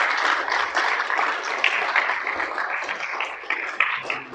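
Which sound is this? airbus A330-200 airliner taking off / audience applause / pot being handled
audience applause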